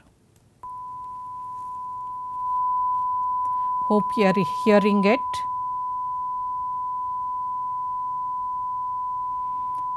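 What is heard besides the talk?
sine wave tone from speaker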